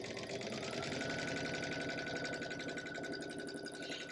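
Domestic sewing machine stitching a scant quarter-inch seam through quilt fabric, a steady, close, continuous motor whir with rapid needle rhythm running unbroken throughout, no voices.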